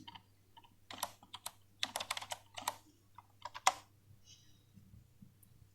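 Quick keystrokes tapped on a computer keyboard while a file is being named, a run of close, crisp clicks in uneven bursts that thin out to scattered taps and then stop.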